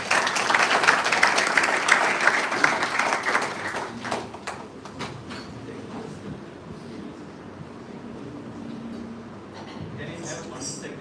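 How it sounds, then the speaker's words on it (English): An audience at a Sunday bhajan gathering claps in a loud dense burst that thins out after about four seconds into a few scattered claps, with murmuring voices continuing underneath. "Can we give her an applause?"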